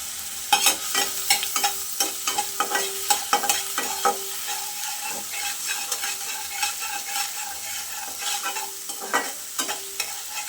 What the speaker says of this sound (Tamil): எண்ணெய் காந்ததுக்கப்புறம் பெருஞ்சீரகம் சேர்த்துப்போம் நம்ம சீகி திருவி வச்ச இஞ்சி திருவி வச்ச பூண்டு நல்லா ஃப்ரை பண்ணிப்போம்